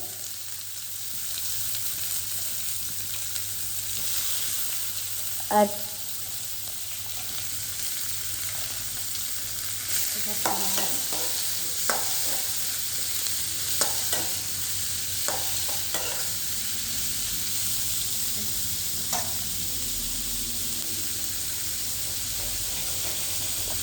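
Chopped garlic and onion frying in a pan, a steady soft sizzle and hiss throughout, with occasional scraping clicks from stirring.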